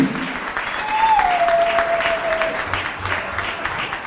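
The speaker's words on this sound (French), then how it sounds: "Du applaudissement, s'il vous plaît" Crowd applause at a political party conclave in Kinshasa, a steady wash of clapping throughout with a brief whistle-like tone gliding through the middle.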